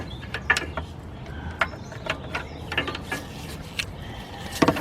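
A ratchet wrench tightening a bolt on the starter of a BMW 745i, producing rapid clicking ratchet strokes in irregular bursts with faint metallic clinks, close up.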